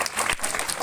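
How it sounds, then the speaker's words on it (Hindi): Applause at a village development gathering in Kolukhedi gram panchayat, a brief burst of many hands clapping, fairly close and dense, with a sharp clap near the middle. "ताली बजाओ"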